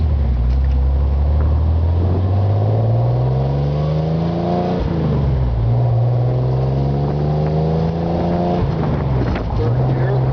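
A car engine revs up repeatedly as it shifts through the gears, each rising whine dropping sharply at the change before climbing again, loud and close with speech over it.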